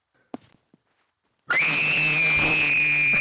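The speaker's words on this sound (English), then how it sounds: "That was the loudest scream ever." A person in Rust game voice chat lets out a long, loud, sustained scream on command, abrupt and close after a moment of near silence with a few faint clicks.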